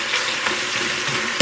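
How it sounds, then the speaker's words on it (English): Onions frying in a pot for beef short ribs, stirred and broken up with a spoon, make a close, bright, continuous sizzle, with a soft scrape of stirring at the very end. "we are going to just stir these around, breaking them up, and cook until the onions have started to get tender"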